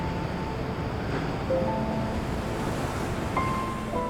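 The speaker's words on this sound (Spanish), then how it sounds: "El sonido del mar, que antes era solo un murmullo lejano, se convierte en un rugido constante." Atlantic waves crash against the rocky Maine coastline in a steady, wide roar of surf, with wind gusting across the microphone and no voices.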